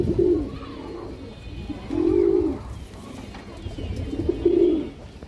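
A large female pigeon coos in three rounded, rolling bursts spaced about two seconds apart, close and fairly loud over a quiet background.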